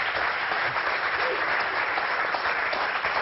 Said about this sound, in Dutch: Geef ze een groot applaus. Triggerfinger!